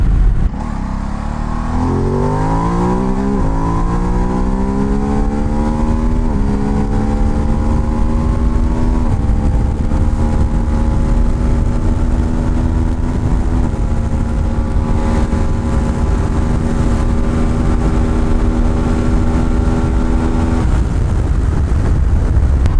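A Ducati DesertX motorcycle accelerates hard on a monsoon jungle road, its engine climbing in pitch through a run of quick upshifts, loud and close, with steady wind roar and no talking.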